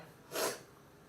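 A woman gives a single brief, close sneeze, a sudden breathy burst that fades quickly against a quiet background.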